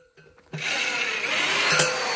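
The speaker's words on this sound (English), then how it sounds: "Put them in the machine, and they sharpen them up." A machine sharpening well-drilling bits starts up after a brief clunk and runs with a steady, loud grinding whine close by, alone without talk.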